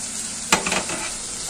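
Egg curry masala with coconut paste frying in a pan, a steady loud sizzle with a sharp scrape of the spoon and a few stirring clinks close up.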